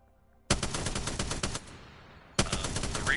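Spitfire gun in a video game firing with an anti-recoil mod, two loud bursts of rapid automatic fire, the first about a second long and the second starting shortly after a brief lull, close and dominant.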